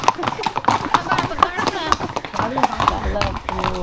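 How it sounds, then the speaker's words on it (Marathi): A black horse clip-clops along on a hill-station ride at Matheran, its hooves tapping in a quick, uneven rhythm close by while people chatter and sing over it. "काला घोडा."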